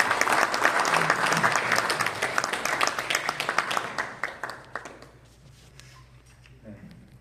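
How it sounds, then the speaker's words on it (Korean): Audience applause at an academic international conference in Seoul on Reformed theology, loud dense clapping that thins out and fades over the last few seconds. "박수 한번 쳐주시기 바랍니다."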